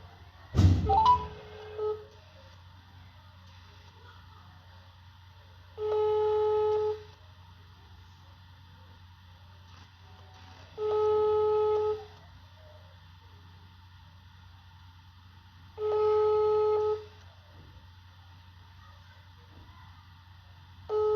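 A telephone call is placed: a brief clatter as the number is dialed, then a repeated ringback tone sounds in evenly spaced long bursts about every five seconds, clear and alone against a quiet background.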